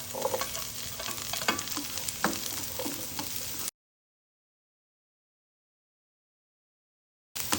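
Garlic and onion sauté in a hot pan with a steady, close sizzle and occasional stirring scrapes, then the sound cuts to silence before briefly returning.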